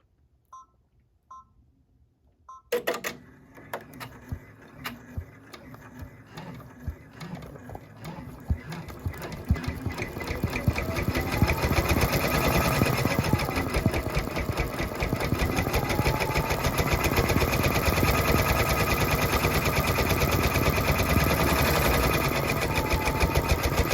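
After a few soft taps, an embroidery machine starts stitching gold lettering onto a shirt with red appliqué fabric. Its rapid, even needle chatter builds in loudness and runs steadily up close.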